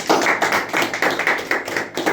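A church congregation claps for the Lord in a roughly steady rhythm, many hands striking together in loud, close bursts about four times a second, filling the room without any speech.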